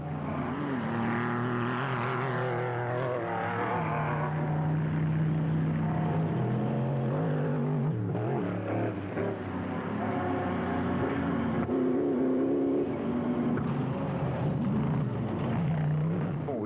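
Rally cars run on dirt roads during the Sugarbelt 400 in 2006, engines droning and revving up and down at a distance, one steady throaty roar that swells and fades without letup.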